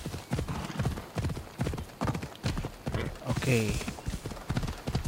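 A horse galloping along a coastline in Assassin's Creed Odyssey, rapid rhythmic hoofbeats throughout with a whinny partway through, while someone talks briefly over it.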